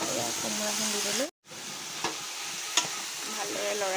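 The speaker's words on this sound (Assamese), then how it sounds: "ভালদৰে লৰাই দিম।" Duck meat and pumpkin frying in a pan while being stirred, a steady close sizzle with scraping strokes and a brief break, no talking.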